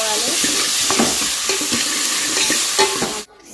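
Vegetables for sambar frying in a pan make a loud sizzle broken by repeated scraping stirs, ending abruptly after about three seconds.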